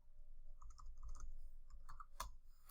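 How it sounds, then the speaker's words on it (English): Computer keyboard typing during AutoCAD drafting, a quiet run of soft close clicks with one sharper keystroke near the end. "I'm going to type in a distance of 20"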